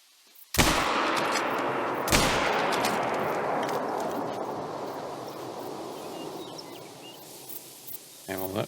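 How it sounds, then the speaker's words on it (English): Two loud rifle shots in the hunting game theHunter, during a moose hunt, the first near 0.6 s and the second near 2.1 s, each one ringing out in a long echoing decay across open terrain. "Well, that was 2 shots."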